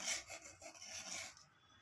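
Scissors cutting patchwork fabric neatly around a curved armhole edge. A soft, continuous rasping is heard faint and close, with no other sound.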